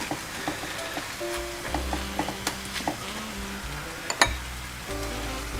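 Beets with apple frying in a pan, a steady soft sizzle running throughout with occasional clinks and stirring knocks, close up and without talk.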